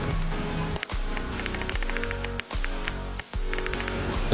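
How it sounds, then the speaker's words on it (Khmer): Rain falling onto standing water near a cattle shelter, a dense steady patter of drops with crisp splashing hits, close and continuous with a few brief gaps. "ពេលទឹកភ្លៀងមកចំទឹក"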